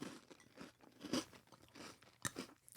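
Crunchy cookie being chewed up close, with a series of crisp crunching bites and softer chewing in between, two especially sharp crunches standing out.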